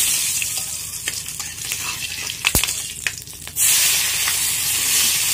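Dried red chilli and cumin seeds fry in hot oil for a chicken curry, a bright crackling sizzle with a few stirring knocks and a sharp clink, then a louder steady hiss.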